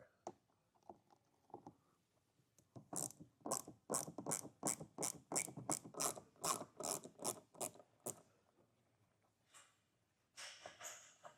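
Phillips screws being backed out of the trunk trim of a 2025 Hyundai with a ratcheting driver, giving runs of rapid, evenly spaced clicks at close range with short pauses between them; no talking.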